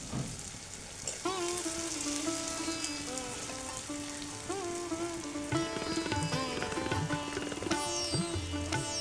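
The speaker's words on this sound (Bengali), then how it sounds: "পেঁয়াজটা একটু সামান্য লালচে করে ভাজবো, কিন্তু পেঁয়াজ যেন পুড়ে না যায়।" Onions frying in oil until reddish give a steady, dense sizzle like rain on a surface, with occasional stirring, while music plays faintly underneath.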